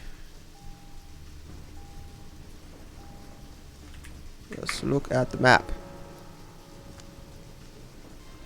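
Steady rain hiss in the video game Deadly Premonition runs under someone speaking, with a short burst of louder clatter midway.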